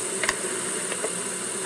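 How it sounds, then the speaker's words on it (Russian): Honeybees crowd a hive frame during an apiary inspection, giving a steady, dense close-up buzz with a few brief sharper flickers as individual bees move nearby. "Пчелы сидят полностью на рамке."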